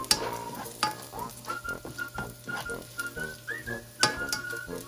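Garlic frying in a pan for a Filipino breakfast, a close steady sizzle with repeated scraping strokes of a spatula stirring at a loose irregular rhythm, and no talking.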